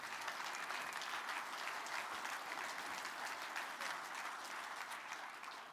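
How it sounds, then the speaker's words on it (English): Audience applause at a Scout luncheon, a steady broadband wash of many hands clapping throughout, sustained and even, heard from within the room at moderate level with no voices standing out. "You can clap for that."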